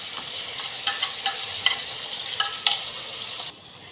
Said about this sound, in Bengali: এবার এর মধ্যে মশলাটা দিয়ে দেবো, পেস্ট করা মশলাটা এর মধ্যে আমি দিয়ে দেবো।